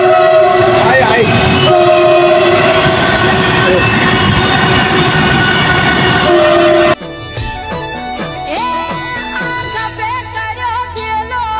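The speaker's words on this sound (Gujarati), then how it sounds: "હા રેલવે આવી" A train passes close by a bridge on the road to Ambaji near Palanpur, a loud sustained horn blaring over the rumble of the cars for several seconds, then rolling wheel and carriage noise as the horn stops.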